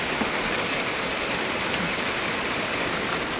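Dense, steady downpour hisses continuously, a heavy rain roaring evenly with no pauses or voices.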